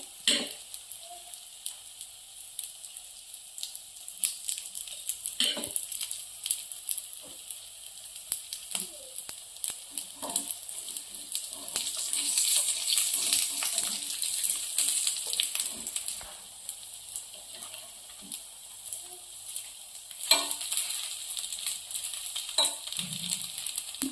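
Paddu batter frying in oil in a paddu pan: a steady, fairly quiet sizzle with crackling throughout, swelling a little in the middle, punctuated by occasional clinks and taps of a utensil against the pan.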